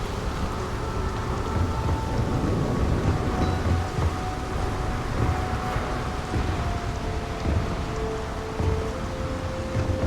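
Thunder and heavy rain-like rumble in a lightning-powered city in Starfield, a dense, continuous roar with low rolling undertones, loud and steady throughout with no voices.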